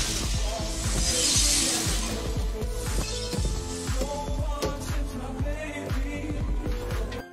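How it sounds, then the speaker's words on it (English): A car slams into a tree and glass shatters, a loud crash followed by dense, repeated breaking and crunching impacts that ring on for several seconds before trailing off. "stepped on the accelerator and crashed into a tree"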